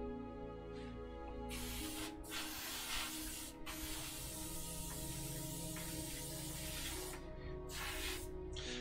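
Spray paint is misted in a light coat onto a 1/72 resin model kit, a steady close hiss that runs in bursts with brief pauses between passes.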